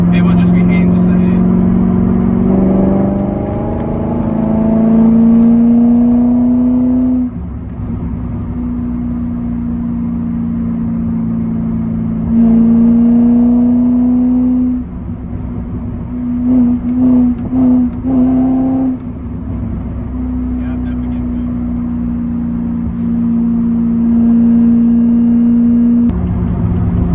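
A cammed C5 Corvette V8 running close by, its choppy idle broken by several loud revs that climb and settle, with a voice talking over the engine at times.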